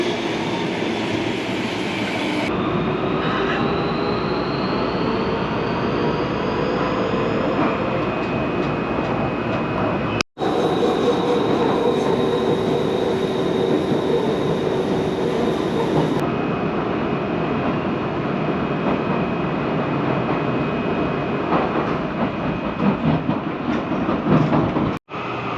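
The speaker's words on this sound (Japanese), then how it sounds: "こちら拝島線西武新宿行きの急行電車が入線してきましたので、こちらの電車に乗車したいと思います。" An express train on the Seibu Haijima Line bound for Seibu-Shinjuku pulls into a station platform, its steady rumble, wheel clatter and faint whine filling the scene for over twenty seconds, loud and close, with no talking.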